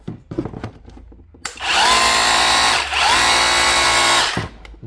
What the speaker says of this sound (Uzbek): bolg'a rejimi.